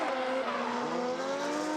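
Drift car running at Okayama International circuit during a Formula Drift Japan Top 32 chase battle, engine note rising and sliding with faint tire squeal, steady and fairly distant throughout with no talk.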